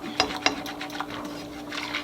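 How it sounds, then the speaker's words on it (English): Chocolate pudding mix stirred in a bowl, with a couple of sharp clinks of utensil against the bowl followed by softer scraping and swishing strokes at close range, with a faint steady hum underneath. "So you just keep going until it's all mixed up."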